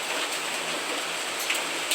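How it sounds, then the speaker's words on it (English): Rain falling outside during a gardening session, a continuous dense hiss of drops with a few slightly sharper patters, steady and close, with no speech. "It's raining right now."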